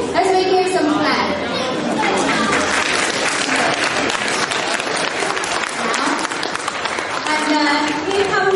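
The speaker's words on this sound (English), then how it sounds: "Let's make him some clap." An audience at a Chinese New Year event applauds a Chinese pop rock band performer, sustained dense clapping from a crowd throughout, with chatter and a voice over it.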